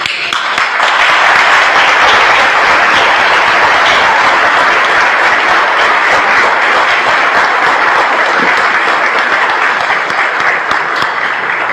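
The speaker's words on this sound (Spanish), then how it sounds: "¿Lo aplaudimos a Jesús?" A church congregation applauds loudly during Mass at a patronal novena, a full, continuous wave of clapping from many people that holds steady for several seconds.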